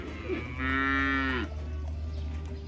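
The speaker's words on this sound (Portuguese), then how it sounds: "Ó, o som da vaca," A single long, loud moo from a cow among calves on a farm, close by over steady low background noise.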